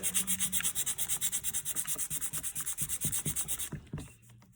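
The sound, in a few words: sanding a wooden steering wheel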